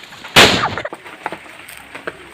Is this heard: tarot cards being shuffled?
no